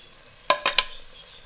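Onions, ginger-garlic paste and tomatoes stirred in a pan, heard as three sharp spoon-against-pan scrapes in quick succession over a soft sizzling background, close and clear.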